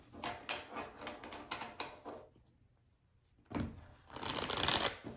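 Tarot cards being gathered and shuffled close by, a run of quick papery riffles and slides, a short quiet pause, then a louder burst of card handling at the end.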